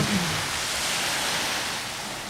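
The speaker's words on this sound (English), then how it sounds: "here is the beach where I live" Waves on a beach near home: a broad, continuous wash of surf noise, steady and moderately loud for a couple of seconds, with no talk.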